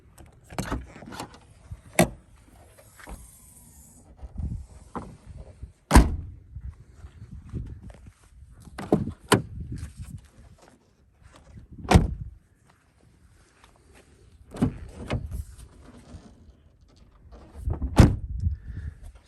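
Doors of a 2017 VW GTI with about 3,000 miles, hatchback included, opened and shut one after another, giving a series of loud, solid thunks with latch clicks and quiet handling noises between them.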